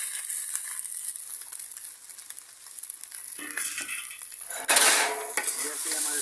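Rice goes into a hot pan for restaurant-style chicken fried rice, with steady sizzling and frying, scraping and clatter of a utensil against the pan, and a louder burst of sizzle as the rice hits.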